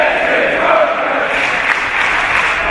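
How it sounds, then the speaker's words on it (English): Wrestling crowd applauding in Wembley arena, dense sustained clapping from a large audience, steady and loud throughout, with a commentator's voice faintly underneath. "The crowd here at Wembley showing their appreciation for both of these men."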